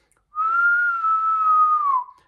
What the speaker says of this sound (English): as you exhale, you can whistle for that whole period of time